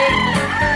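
A chicken being placed on a film set clucks in a steady, close, fairly loud stretch of harmonic calls, with no talk over it.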